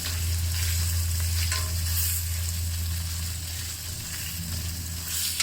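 Sausages pan frying with a dense continuous sizzle and spatter over a steady low hum, loud and close, no one speaking.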